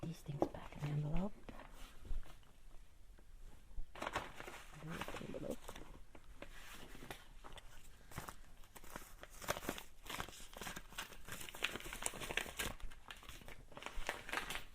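A paper envelope crinkles and rustles as small items are slipped back inside during indoor garden organizing. The close, continuous crinkling carries on throughout, with a soft voice murmuring now and then.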